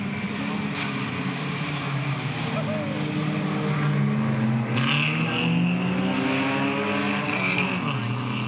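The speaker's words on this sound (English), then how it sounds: "David Farmer looking for the victory as they go past the stranded number 9 of Ross Gardner." BMW E30 race cars roaring past on the Hampton Downs circuit, continuous loud engine drone with shifting pitch as several cars pass close by, with commentary running over it.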